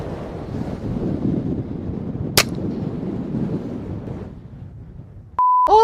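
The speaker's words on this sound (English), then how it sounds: "I've got a subsonic 22 in my revolver" A single sharp crack of a subsonic .22 revolver fired into a pumpkin, standing out briefly over steady wind noise, followed later by an electronic beep.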